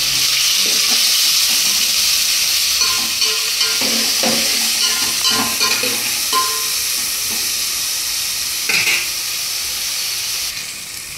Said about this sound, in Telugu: దీంట్లోనే టమాటా ముక్కలు వేసేసుకుందాం. ఇది సాఫ్ట్ అయ్యే వరకు.